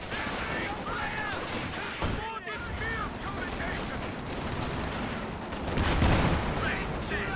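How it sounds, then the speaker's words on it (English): Explosive rounds and bursts of gunfire in a Company of Heroes 2 battle crackle at moderate volume, with scattered impacts and a heavier thump near the end while a caster talks over the action. "Explosive rounds hitting"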